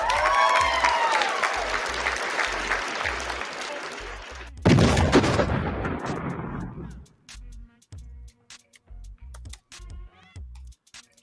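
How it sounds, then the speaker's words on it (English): A canned applause sound effect, played as thanks to a tipper during a live podcast stream: a loud burst of crowd clapping and cheering that swells, restarts abruptly, then fades out, followed by sparse clicks and thumps. "Give him another clap."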